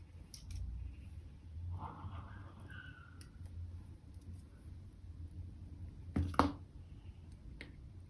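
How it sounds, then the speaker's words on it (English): Scissors snip loose thread ends from a handmade beaded flower ring in a quiet room. Two or three faint, crisp clicks are spread across the stretch, with soft handling rustle between them. "And now I just cut down the loose ends."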